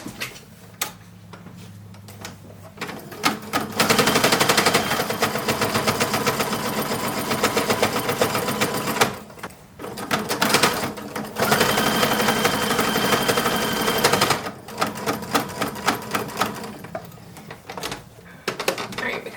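A sewing machine stitches pockets onto a 1940s WWII staff assistance uniform dress in rapid mechanical bursts, running in several long stretches separated by short pauses, close and steady.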